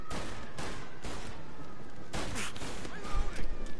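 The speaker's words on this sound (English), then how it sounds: "Gunfire and an explosion reported in the Corleone Hotel." Gunfire and an explosion in the video game Mafia: Definitive Edition, a dense run of sharp shots and booming blasts over constant noisy background, with heavier thuds near the end.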